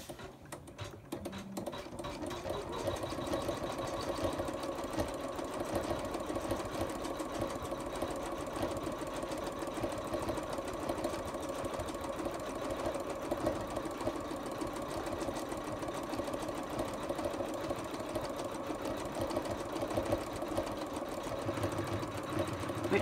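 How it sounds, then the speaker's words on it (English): An embroidery machine sewing satin stitch across the top of a stuffed toy, with a continuous quiet buzzing hum and rapid needle chatter that holds steady after a brief start-up. "the next stage is the satin stitch all over the top"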